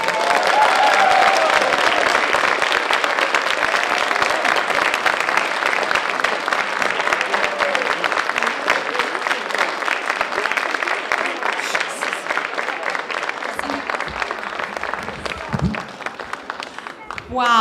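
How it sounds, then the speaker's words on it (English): Sustained, loud applause from an audience cheering middle school Knowledge Bowl champions at a 2023 competition, dense clapping with crowd noise running steadily throughout, thinning slightly near the end. "I want to say a big round of applause and a big congratulations to our team from the Daley Middle School"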